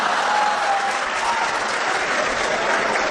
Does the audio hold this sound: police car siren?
no